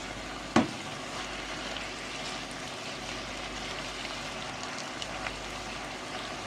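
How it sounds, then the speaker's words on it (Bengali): Leafy greens (shak) fry in a pan with a steady, even sizzle throughout, broken early by one sharp knock of a utensil. "কিছু সময়ের মধ্যে শাকটা সুন্দর ভাজি হয়ে যাবে।"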